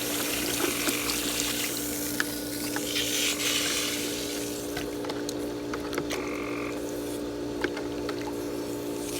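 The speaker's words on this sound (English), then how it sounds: "put some more water in there and mix it up" Water is poured into a bucket to dilute pool shock while opening a swimming pool, producing a steady splashing rush that continues throughout, with brief clunks and knocks along the way.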